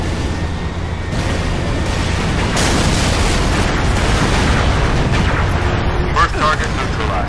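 Sustained, loud rumbling explosion as a facility is blown apart in Halo: Reach, a dense roar that swells partway through and keeps booming with crackling bursts near the end, with voices talking over it.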